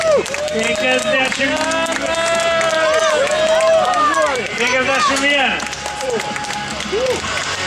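Crowd clapping at an outdoor strongman sports festival, fairly loud and continuous under a man counting aloud through a microphone while music plays throughout.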